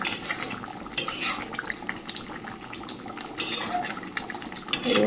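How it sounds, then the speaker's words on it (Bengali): Chicken curry boiling hard in a pot, a steady watery bubbling with occasional metallic clinks of utensils, fairly close and without talk. "চিকেনটা একদম টকবক করে ফুটছে।"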